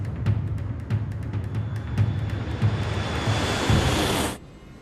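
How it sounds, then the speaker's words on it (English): Airliner jet engines spool up to takeoff thrust on the runway, a steady broad roar with a high whine that cuts off abruptly near the end. "Takeoff thrust."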